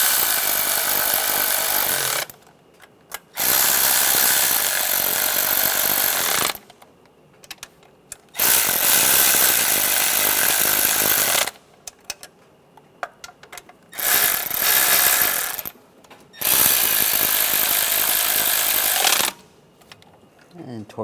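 Valve cover bolts on a 1996-2002 Toyota 4Runner being snugged down, heard as five loud, rough bursts of tool noise lasting a few seconds each, separated by short quiet gaps.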